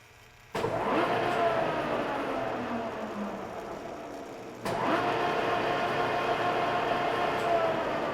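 A Lucas 441-B machine roars up hard when its spindle starts, a sudden loud broadband mechanical drone that eases slightly, then surges again partway through and stays loud and steady to the end.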